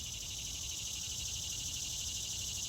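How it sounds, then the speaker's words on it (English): Cicadas drone in a continuous high, steady buzz that holds at an even, fairly faint level throughout, with a low rumble of background noise beneath and no talking. "Because cicadas agree with that."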